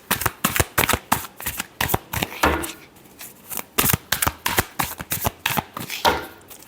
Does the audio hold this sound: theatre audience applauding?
no